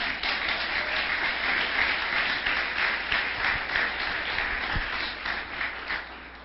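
A church congregation applauds steadily throughout, a dense, even wash of clapping that holds at a similar level and eases slightly near the end, with no voices standing out.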